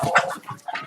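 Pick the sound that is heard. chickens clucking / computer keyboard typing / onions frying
chickens clucking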